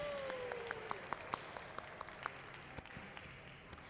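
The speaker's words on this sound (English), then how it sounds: "let's give them one more big round of applause" An audience at a museum hot shop applauds glass artists after a live glassblowing demonstration, with sparse, scattered hand claps at a moderate distance and a faint tone sliding underneath.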